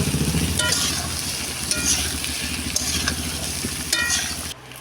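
Fried eggs and potatoes stir-fry in spiced oil in a pan, giving a dense, loud sizzle with rhythmic scraping stirs, before cutting off abruptly near the end.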